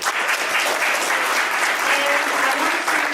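Audience applause for panelists at a youth leadership conference session, a dense, even wash of clapping holding steady and fairly loud throughout.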